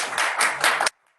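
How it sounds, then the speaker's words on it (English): A roomful of people at a summit wrap-up claps vigorously in a close, loud burst of quick pulses that stops abruptly after under a second, leaving near silence. "And very vigorous clapping going on in the room, and to Cheryl Mann"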